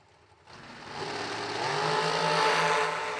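A dragster engine at a New Year Nationals drag racing event starts after a brief quiet moment and swells into a loud, sustained roar that holds steady without any voices.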